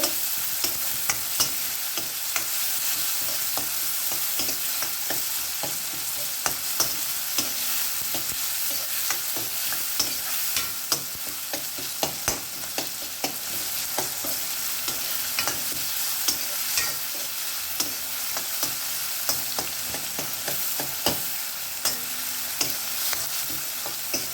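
Onions and tomatoes frying in a pan for white sambar, a constant hiss of sizzling oil broken by frequent sharp clicks and scrapes of a spoon stirring, close and steady for the whole stretch with no voices.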